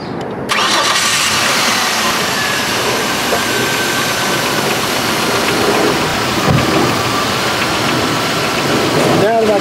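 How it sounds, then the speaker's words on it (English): Car engine cranks and catches, then settles into a steady, loud idle that continues throughout, heard up close while the cooling system's radiator cap is open. "I'm gonna start the vehicle up now"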